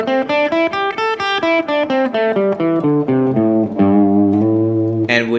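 An electric guitar plays a descending pentatonic scale in fifth position an octave down, clear single notes picked one after another in steady rhythm, close and fairly loud with no talking.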